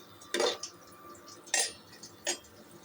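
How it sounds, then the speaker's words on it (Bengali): A spatula scrapes and stirs spice paste frying in a pan in a home kitchen, three short clattering strokes spaced apart over a faint background hiss, close and fairly loud, with no talking. "এ দেখো মশলাটা আমার কষছে"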